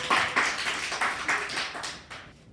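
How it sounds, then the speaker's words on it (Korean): A lecture audience gives a short round of clapping, fairly faint and slightly rhythmic, tapering off after a couple of seconds. "박수 한번 치세요"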